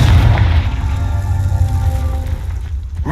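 A Confringo fire spell erupts in Hogwarts Legacy, a loud, deep boom with a rumbling burst that rolls on for about three seconds before thinning out.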